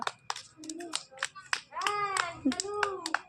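Children clap their hands in several short bursts amid lively talking and chanting voices, with the claps and voices alternating and overlapping close by.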